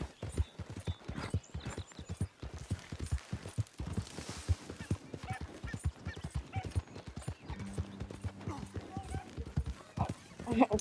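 Horse hooves clip-clop rapidly and continuously during a ride in the video game Red Dead, with a whinny partway through and people talking over the hoofbeats.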